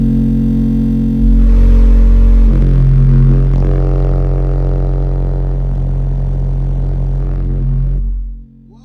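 A car subwoofer in a daily-driver hatch blasts a loud, sustained 45 Hz bass burp lasting several seconds, deep droning tone with rattling overtones that cuts off abruptly at the end.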